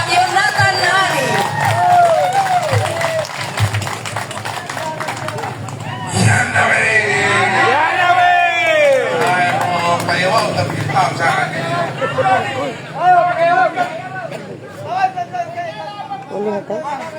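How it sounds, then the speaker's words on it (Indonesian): Crowd at an outdoor political campaign rally for a regional election in Sumba Timur cheers and claps amid lively chatter, with a loud voice over a public address system and a swell of excitement midway. "mari kita jemput dengan tepuk tangan yang paling semangat, paling menyala"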